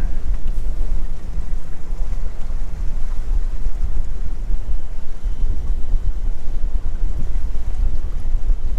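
Fishing boat accelerating across open water while scanning for fish with a fishfinder, giving a loud, steady rush of engine, hull and wind noise up close, with no talking.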